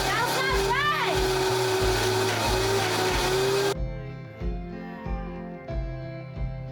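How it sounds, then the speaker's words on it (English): A blender or food processor whirs through a dairy-free ice cream mixture: a loud motor whine that shifts in pitch, then drops to a lower, pulsing hum as the blades work the thick mix, close up. "So you could use either a blender or a food processor."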